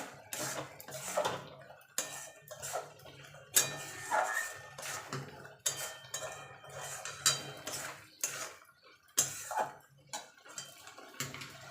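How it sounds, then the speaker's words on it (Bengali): Carrot halwa with ghee being stirred in a pan, heard as repeated clanks and scrapes of a metal spoon against the pan in an uneven rhythm, close by, with no talking. "এবার ভালো করে নেড়ে দেবো"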